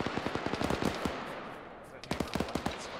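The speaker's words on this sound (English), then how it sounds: "Taking RPG fire south." Gunfire and RPG fire in a military video game (Arma), heard as rapid close bursts of sharp cracks and thuds that thin out into a rumbling lull before another cluster of shots.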